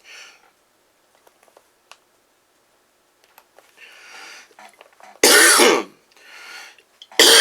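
A man coughs and clears his throat several times indoors during a rifle build, with a chronic cough producing short harsh bursts, two of them loud and close, separated by quiet pauses and small sniffs.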